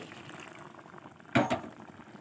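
Hot water in a pot, heated for carrot halwa, gives a low, steady bubbling hiss in a home kitchen, broken once by a brief, sharper splash or clatter.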